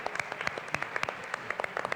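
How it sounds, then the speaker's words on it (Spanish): A small studio audience on a Spanish-language game show gives scattered, fairly quiet applause, with individual claps standing out in an uneven rhythm. "Hay que aplaudirle, ¿no?"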